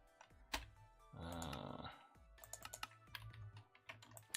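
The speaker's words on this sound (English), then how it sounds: "my dog is currently digging into his own bed" Soft scratching and scrabbling of paws digging into a bed, irregular bursts with rustling fabric, quiet and close.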